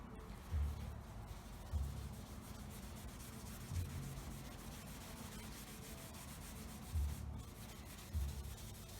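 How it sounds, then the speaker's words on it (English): Eroded clear coat on a car is polished gently by hand, making soft, steady rubbing strokes that repeat at a slow, even rhythm, fairly quiet and close. "When you're polishing the base coat, you got to be careful that you don't polish too hard."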